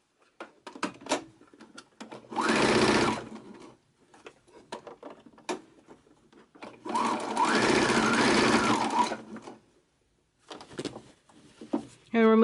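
A sewing machine stitching a seam along the folded edge of a pleated placemat, two steady whirring runs of several seconds each with quiet handling clicks between them, close up.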